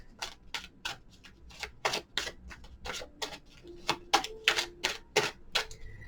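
Tarot cards are shuffled and handled in a quick run of crisp, close riffling clicks and taps, alone without talk.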